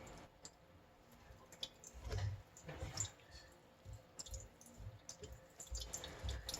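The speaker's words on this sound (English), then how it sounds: "we'll just stir it around to get all of the sauce out and leave all the big stuff behind" Fermented sriracha sauce stirred in a pan, with soft wet squelches and light scraping clicks in uneven strokes, very close and quiet.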